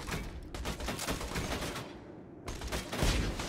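SMG fire in the video game Borderlands 2 comes as rapid, sustained automatic bursts with brief gaps, crackling and dense. A heavier burst lands near the end, with no talk over it.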